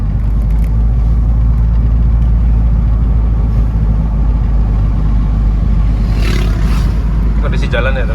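A Nissan X-Trail T31 with a CVT automatic pulling away in second gear, a loud, steady low engine drone heard from inside the cabin with no clear rise in pitch, and a few faint rattles near the end.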